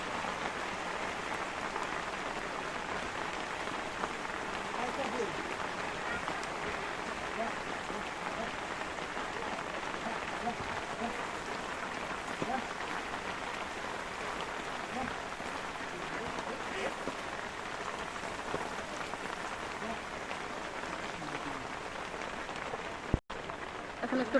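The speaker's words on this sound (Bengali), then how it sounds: "বৃষ্টি পড়তেছে তো তাই বোঝা যাইতাছে না, প্রচুর বৃষ্টি পড়তেছে" Heavy rain pours steadily outdoors during home cooking of hilsa fish with taro, a dense continuous hiss holding even throughout, ending in a brief knock near the close.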